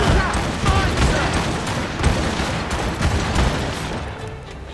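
Ship cannons fire in a naval battle in Assassin's Creed Rogue, a dense rumbling barrage of booms rolling one into another, with a voice shouting over the continuous din.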